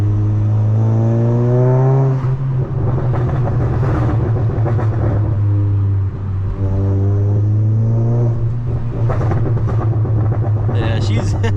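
A VW Golf GTI Mk7.5 in sport mode with traction control off, its engine revving hard while driving, rising and falling in pitch through several pulls at close range, with faint voices in the background.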